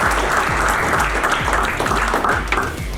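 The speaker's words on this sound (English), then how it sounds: "Big round of applause for all 10 of these athletes." A crowd at a signing day ceremony gives a sustained, loud round of clapping for ten signing athletes, steady and dense throughout.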